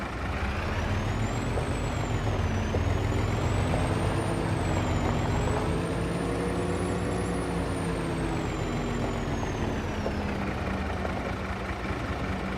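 A truck in the farming game Farming Simulator 25 idles with a steady engine rumble while a long, wavering high hiss of air brakes runs through most of it, constant and moderately loud, with no talking.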